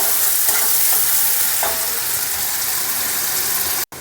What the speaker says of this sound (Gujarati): મીઠા લીમડાના પાન જે છે તે નાખી દઈશું લીલા મરચાં નાખી દઈશું અને આપણે તેને થોડી વાર સાતવશું